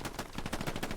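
Gunfire in a shooter video game during an 18-versus-18 match: a quick run of rapid, evenly spaced shots, like an automatic burst, fairly quiet and with no voices.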